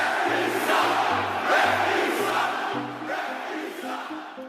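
An arena crowd of about 18,000 people roars in a dense, sustained wash of screaming and booing, loud and steady throughout.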